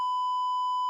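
A steady, loud censor bleep tone covers a swear word on a fantasy football talk show, holding for about a second alone with nothing else audible.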